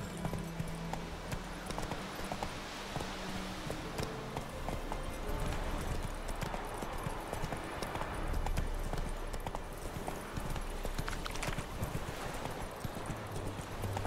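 Horse hooves clip-clop steadily at a riding pace in The Witcher 3, a continuous rhythmic trot heard up close against a faint game ambience.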